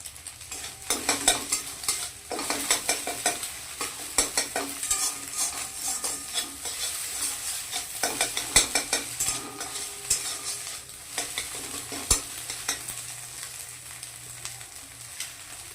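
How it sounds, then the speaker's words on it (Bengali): Egg fries in oil with a little salt in a kadai and is stirred with a metal utensil, giving a soft steady sizzle broken by repeated scraping and clinking strokes, close and without speech. "তো ডিম ভাজা হয়ে গেছে আমি এখন তুলে নিচ্ছি"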